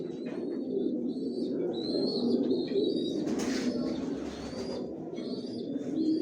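Caged pigeons coo steadily in low, overlapping murmurs, with brief higher chirps from young birds breaking through now and then, all close and continuous.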